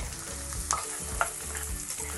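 Finely chopped onions fry with cumin in hot oil, a close, continuous sizzle and hiss with a couple of sharp metallic scrapes from stirring, with no talking.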